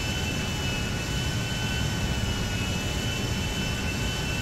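Inside a large airplane in flight, the engines give a steady broadband roar with a faint high whine, constant and close, no voices.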